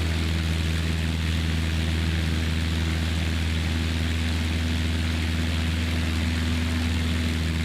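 Steady droning aircraft engine inside a flight simulator game on a VFR flight, a loud constant propeller hum with low tonal bands, continuous and unbroken with no talk over it.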